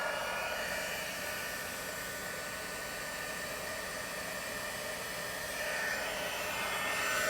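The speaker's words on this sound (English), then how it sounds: "So you want to heat up your heat tool a little bit" An embossing heat tool blows a steady, hissing whoosh of hot air, close and constant like a small hair dryer, rising slightly toward the end with no talking.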